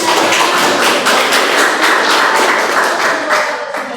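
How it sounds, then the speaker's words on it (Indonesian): A classroom of students claps hands together in a rhythmic group clap, distinct sharp beats roughly every quarter second, loud and close, tapering off toward the end. "tepuk tangannya"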